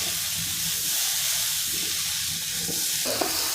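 Fried pasta and egg are stirred together in a pan, giving a brief close sizzle and hiss with light scraping. A small clink comes near the end, and there is no talk.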